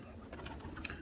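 Pigeons of flying breeds, kept in aviaries, coo softly in a short, faint burst of low murmuring calls over steady background hiss.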